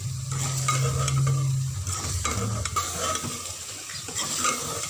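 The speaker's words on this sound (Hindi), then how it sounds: "चिकन शामिल करके हम इसको अच्छी तरह से फ्राई करेंगे।" Chicken fries and is stirred in a pan with loud, continuous sizzling and crackling, while a spoon scrapes and clinks against the metal now and then.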